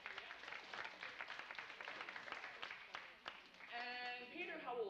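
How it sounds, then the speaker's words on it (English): A crowd claps at a children's magic show, a dense ongoing patter of applause filling the room, with a voice heard near the end. "Everybody, let's give Peter a big round of applause for coming out."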